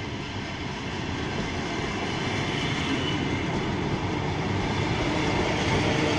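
An Odesa–Vapniarka electric train departing Odesa-Main station gives a steady, loud broadband rumble of motors and rolling wheels that holds evenly throughout, with no voices over it.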